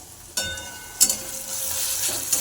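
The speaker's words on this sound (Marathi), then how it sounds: "हा कांदा आणि टमाटर फ्राय केले जाते" Onion and tomato frying with mutton in a pan, a steady close sizzle that jumps louder as ingredients are stirred or added, with no voices.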